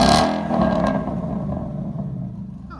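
A 2017 Ford Mustang GT 5.0 V8 with a Ford Performance exhaust gets a quick blip of throttle, a sharp loud rev at the start that falls away into a lower rumble and settles back toward idle.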